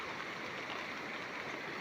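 Floodwater rushes steadily down a rocky slope in Konkan during heavy monsoon flooding, a constant hiss of fast-moving water heard from a short distance.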